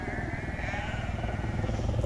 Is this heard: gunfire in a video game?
no